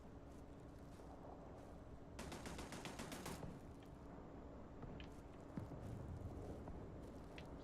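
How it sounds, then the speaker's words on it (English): Gunfire in the space game Starfield, a burst of rapid, fairly distant shots over a steady ambient hum, followed by scattered single pops. "Somebody's shooting at something."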